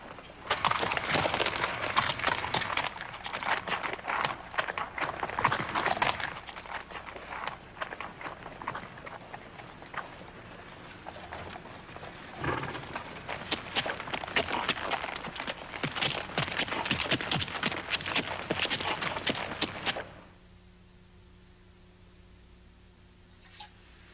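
Rhythmic hoof clops and crunching steps of horses on a hard path, fairly close, fading out near the end into quiet hum.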